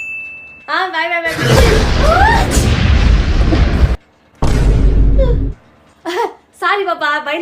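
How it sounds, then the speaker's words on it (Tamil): A person lets out a very loud, explosive sneeze in two big bursts, close to the mic, with brief voiced sounds before and after. "அது சாதாரண தும்மல் தான்."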